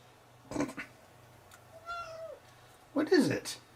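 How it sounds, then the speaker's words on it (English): A cat meows two or three times at close range, short rising and falling cries spaced across a few seconds over a quiet indoor hum, with a louder final call. "Are you a mewing cat?"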